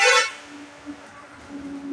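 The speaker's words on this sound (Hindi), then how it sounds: "हॉर्न काय मार रहे हो" A vehicle horn honks outside in a single loud blast at the start, followed by a quieter steady traffic hum.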